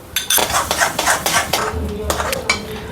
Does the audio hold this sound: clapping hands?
no